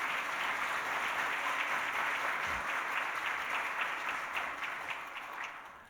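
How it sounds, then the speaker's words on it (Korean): Dense, steady applause from a church congregation during a Sunday service, filling the hall evenly and thinning slightly toward the end, with no talking over it. "여러분 격려의 박수 한번 부탁합니다."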